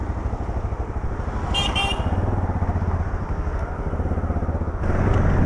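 UM Renegade Sport S motorcycle riding along a road, a steady engine drone and wind rumble continuing throughout, close and loud, with a brief high chirp partway through and a louder surge near the end.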